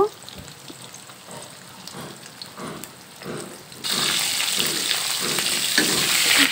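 Katla fish pieces go into hot mustard oil, and a quiet crackle swells abruptly into a loud, continuous sizzle that holds steady at close range.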